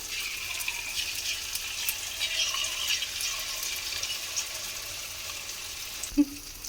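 Potato peel crisps frying in hot oil, a steady hissing sizzle with faint bubbling that runs throughout, then a brief clink near the end.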